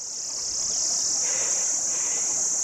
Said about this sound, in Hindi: भौरों की तरह है, तो वो भिनभिनाते हैं और कुछ चिड़िया जैसे भी हैं।